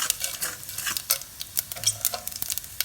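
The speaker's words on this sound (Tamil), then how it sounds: "சட்டி வச்சு எண்ணெய் சூடு வைட்டது. இதுக்குள்ள இப்போ நான் கடுகை போடுறேன்" Mustard seeds, fennel and lentils crackle and pop in hot oil in a pan, a busy scatter of sharp sizzling spits close up with no talk.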